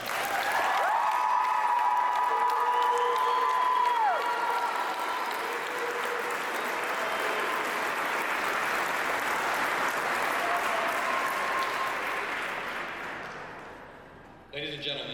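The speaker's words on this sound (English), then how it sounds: "give these soldiers one more round of applause." A large crowd claps and cheers for returning infantry soldiers at a homecoming ceremony, with dense sustained applause and whistles that hold for about twelve seconds before tapering off into quieter room sound.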